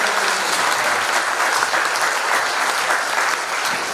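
Steady, dense applause from a church congregation at a pastors' fellowship evening worship service fills the room, loud and continuous with no break.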